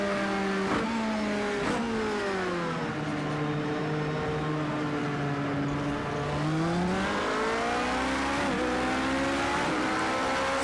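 LMP prototype race car engine in Project Cars 2 at Le Mans, held in third gear, loud continuous harmonic engine whine rising and falling with revs through corners, with brief shift-like dips.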